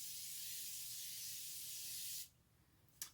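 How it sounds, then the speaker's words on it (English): A continuous hiss of Morphe makeup setting spray misted onto a face, loud and steady for about two seconds, stopping abruptly, followed by a brief faint second spritz. "I'm going to set that down with a bit of my Morphe setting spray."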